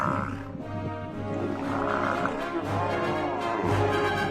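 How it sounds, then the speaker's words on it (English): A trapped lion, gored by a buffalo's horns, lets out drawn-out anguished roars and moans in the wild, loud and close, rising and falling in repeated strained cries. "In a series of convulsions, the trapped lion cried in vain."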